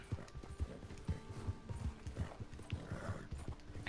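A horse gallops uphill in Red Dead Online, its hooves pounding in a fast, even rhythm close by with faint saddle and gear rattles, no voices.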